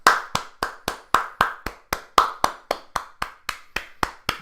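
One person claps alone, about sixteen sharp, evenly spaced claps in a steady rhythm, close and loud with no voices.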